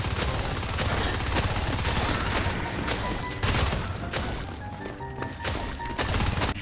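Rapid gunfire in the first-person shooter Natural Selection 2, loud and continuous: dense bursts of shots with sharp impacts throughout, and no talking.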